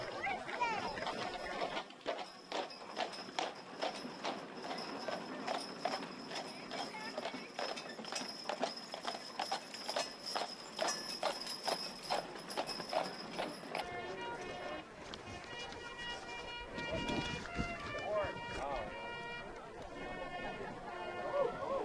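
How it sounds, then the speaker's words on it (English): Steady clip-clop of four Dutch warmblood horses' hooves on a hard road, pulling a four-in-hand carriage at a parade, with rattling harness and carriage wheels, later joined by jingling and creaking. "Driving his four-in-hand of Dutch warm-bled horses."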